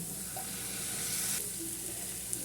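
Spices and soy sauce sautéing in a pan for a lasagna filling: a continuous close sizzle and hiss with light stirring, no talk.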